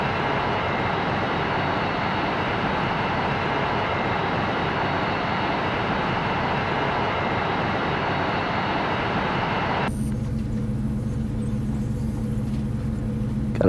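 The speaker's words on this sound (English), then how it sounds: "Gotta bring this plane down." Steady airplane engine drone in a flight simulator game during descent, a loud continuous roar with no talk that abruptly shifts to a thinner, different engine tone near the end.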